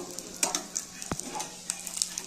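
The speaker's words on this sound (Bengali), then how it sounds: "এবার একে একে করে সমস্ত বড়াগুলো আমরা এইভাবে স্লো ফ্লেমে ভেজে নেব" Bora fritters fry in oil on a slow flame with a continuous soft crackle and fine popping, plus a few light taps and a brief scrape near the pan, heard up close with no speech.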